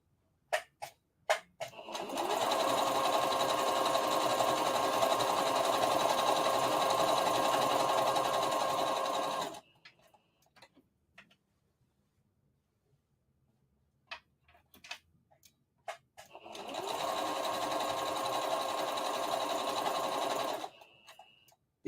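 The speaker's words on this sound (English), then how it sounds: "You got to sew it all together at once." A sewing machine stitching a circle dress runs in two long, loud, steady whirring bursts, separated by a quiet pause filled with small clicks and fabric handling.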